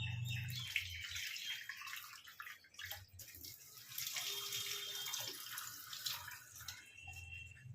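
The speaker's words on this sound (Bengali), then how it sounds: "এই জলটা আমি ফেলে দেবো।" Water from soaked lentils is poured away into a sink in a home kitchen while oil heats in a pan, giving a steady splashing gush that runs through most of the stretch with brief tapering moments.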